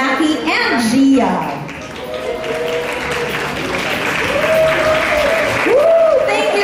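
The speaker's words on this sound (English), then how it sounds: "Yes, you definitely deserve that cheer." Wedding guests applaud and cheer at a reception, a crowd of clapping and whoops rising and falling over several seconds, with a voice speaking over the noise.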